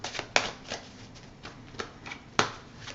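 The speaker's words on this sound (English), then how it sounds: "One more shuffle, really?" Tarot cards being shuffled by hand, giving a series of soft riffling bursts with two sharper slaps as the deck is squared, close and fairly quiet with no talking.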